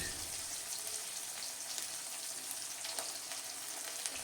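Ginger paste and cumin paste fry in a pan for a vegetable curry, making a steady hiss of sizzling with faint crackles throughout.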